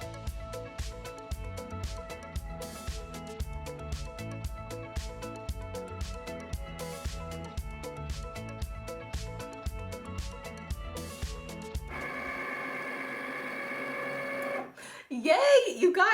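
A Cricut cutting machine works through printed stickers on a mat, giving a steady rhythmic mechanical whirring and clicking for about twelve seconds, then a smoother motor hum and a brief shuffle as the cut finishes.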